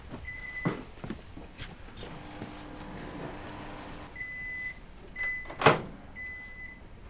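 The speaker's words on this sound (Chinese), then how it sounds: "我把红烧肉端去微波炉，再热一下。" A microwave oven reheats braised pork, giving a low running hum and a series of short electronic beeps, with a sharp clunk of the door near the end and no talk.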